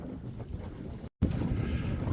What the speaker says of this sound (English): we are in a little bit of a gust here